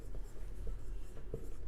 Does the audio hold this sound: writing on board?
yes